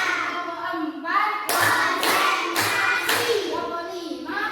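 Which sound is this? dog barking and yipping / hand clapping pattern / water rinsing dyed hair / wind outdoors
hand clapping pattern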